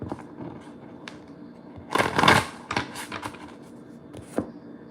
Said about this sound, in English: I'm just shuffling this humongous deck.